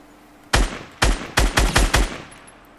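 Gunfire in Fortnite: six sharp, loud shots ring out close, two spaced apart followed by a quicker burst of four, with a short reverberant tail after each.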